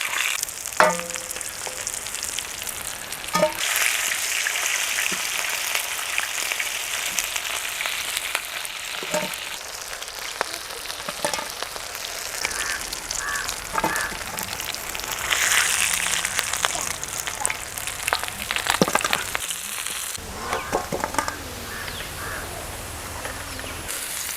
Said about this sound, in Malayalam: നമ്മുടെ ഗിത്താർ ഫിഷ് വറുത്ത് നല്ല അടിപൊളി ഫ്രൈ ചെയ്യുമ്പോൾ